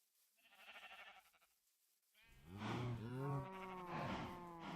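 Cows lowing on a Minecraft cow farm, a faint distant moo followed by several louder overlapping moos close by, no talk.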